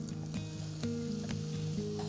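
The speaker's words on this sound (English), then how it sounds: "Now I'm going to start with a bit of olive oil into a warm frying pan. I'm going to add some sliced red onion" Sliced red onion hitting olive oil in a warm frying pan, a quiet steady sizzle broken by a few sharp taps and stirs, with a faint tonal hum underneath.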